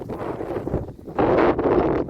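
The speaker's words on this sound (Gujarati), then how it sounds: "આજ તો પવન નીકળો બીજી રીતનો" Gusts of wind buffet the microphone in bursts on a farm field, a rough blustery roar that swells strongly in the second half.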